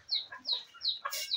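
A hen on a countryside farm gives repeated short clucks in a steady rhythm, with a brief louder squawk near the end, close by and clear over quiet surroundings.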